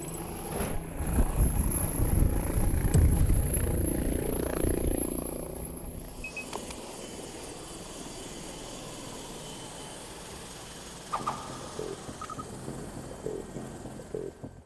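A doctor air ambulance helicopter thunders close and loud at first, its rotor noise fading away after about six seconds into a quieter background with faint scattered sounds.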